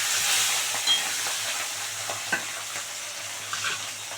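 Pieces of rohu fish sizzle in hot white cooking oil in a pan, a steady bright frying hiss with a few faint pops and crackles, close by with no talk.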